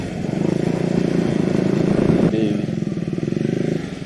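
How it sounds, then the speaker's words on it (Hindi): A motorcycle climbs a hill road near Akkayamma Betta outside Bangalore, its engine thrumming steadily and loud nearby, with a voice talking over it. "और एक बाइकर ऑलरेडी जा रहा है आगे"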